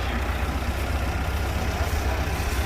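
A Farmall 200 tractor runs steadily at idle, a low continuous engine chug filling the background with no talk over it.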